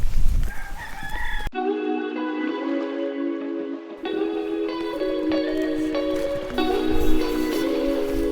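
A rooster crows loudly and close, a long drawn-out harmonic call followed by a second extended crow, with a bit of background noise before the first call begins and no talking.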